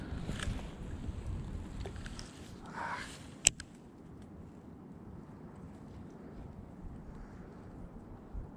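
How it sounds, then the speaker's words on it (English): Strong wind buffets the microphone beside a public pond in Missouri, a steady low rumble with gusty swells and one sharp knock partway through. "it's super windy right now"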